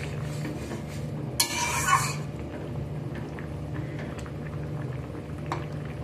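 A fish curry gravy with potatoes simmers in a pot, a low steady bubbling under a faint background hum, with a brief louder hiss and clatter near the middle and a few soft ticks.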